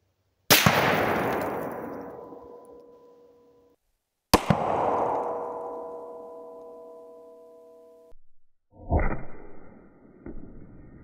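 Two sharp, loud .338 Lapua rifle shots strike a Humvee ballistic windshield outdoors, each a cracking impact followed by a long ringing decay, then a short burst of clattering as glass breaks up.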